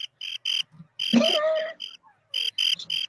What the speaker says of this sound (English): Hey, the crickets. Want to hear?